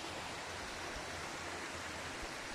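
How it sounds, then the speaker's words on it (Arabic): A mountain waterfall on the slopes of a 3555-metre peak gives off a steady, dense rushing roar with no pauses and no voices. "شلال هاهو"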